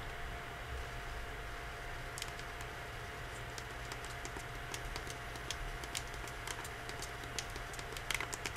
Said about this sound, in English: typing the user ID in the first box and then the message here